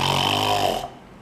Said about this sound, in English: And the wolf was snoring